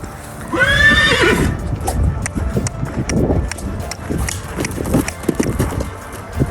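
A horse gives a loud, close whinny at the start, followed by steady clip-clopping hooves that continue in an irregular rhythm to the end.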